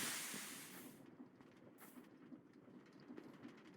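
A train in a Minecraft modpack rolls past: a hissing rush at first, then a low, rumbling clatter with faint rhythmic clicks, quiet and close, with no talking.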